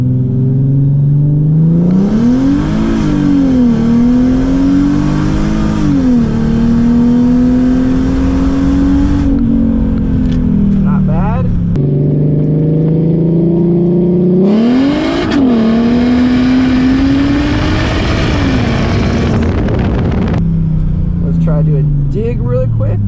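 A Mercedes SLK32 AMG engine roars loudly through two hard acceleration pulls, its pitch climbing steadily with brief dips at shifts, then a short lift-off before the second pull rises again and fades out.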